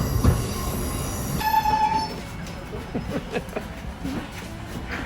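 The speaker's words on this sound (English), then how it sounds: "Spoilt by a train going past." A train rolls past near the Glasshouse venue and a castle, with a metallic wheel squeal early on, then a steady rumble and clatter of cars going by at moderate distance.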